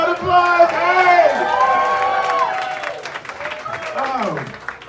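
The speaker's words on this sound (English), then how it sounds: "Give him a round of applause." Applause and cheering from a stand-up comedy crowd at The Punchline in Atlanta, with whoops and voices rising over the clapping as people call out across the room for about five seconds.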